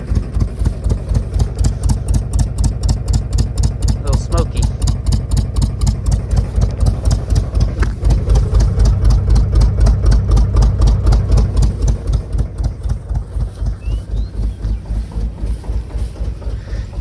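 A 1978 GMC truck with a failing fuel pump idles up close, a loud, steady, rapid chugging pulse that roughens and swells midway, then settles back into an even beat.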